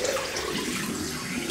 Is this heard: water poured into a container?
yes